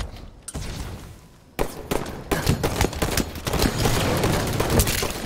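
Rapid gunfire rings out on a Halo Forge map in a 4v4 Slayer match: a few shots, a brief lull, then sustained loud bursts of automatic fire.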